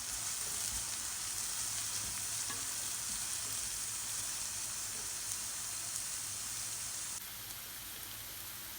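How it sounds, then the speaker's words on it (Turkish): Green onion, green pepper, green garlic and a little red pepper sautéing in olive oil give a continuous, even hiss of frying. The hiss stays close and drops slightly in level near the end. "yeşil soğan, yeşil biber, e, ee, yeşil sarımsak e, ve birazcık da kırmızı biberi zeytinyağında güzelce bir soteliyoruz"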